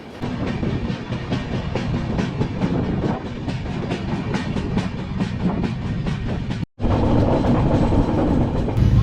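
Train rolling along rails on a Bengal-to-Kashmir journey, starting from Durgapur, a steady loud rattling clatter with rhythmic clicks from inside the carriage, with a brief cut near the end before the same clatter resumes.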